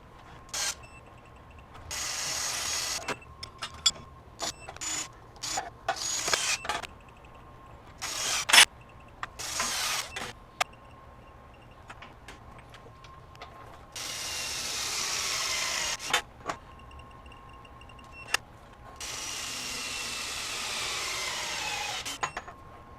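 A RIDGID 18V right angle impact wrench torques fasteners in a series of short hammering bursts separated by pauses, with a couple of longer sustained runs near the end, close and fairly loud with no talking.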